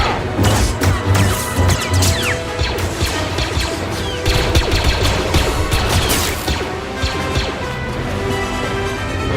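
Blaster fire rattles through a Star Wars fan film battle, loud and continuous for several seconds, with dense overlapping shots and crashing impacts throughout.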